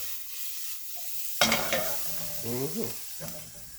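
Beef short ribs sauté and sizzle in a pot for tamarind braised short ribs, a steady close frying hiss broken by the scrape and clatter of stirring.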